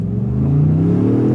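A 2024 Ford F-150 Tremor pickup launches hard from a standstill, its engine note rising loud and close in one continuous rev.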